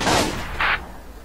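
Machine gun fire in the war game Combat Mission Fortress Italy, set at San Pietro: two short, sharp bursts of shots close together, fairly loud, with a faint rumble between them.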